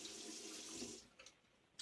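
Water runs from a tap into a scuttle holding Williams Mug Shaving Soap lather, a steady faint hiss that stops partway through, followed by a couple of small clinks and drips in a quiet room.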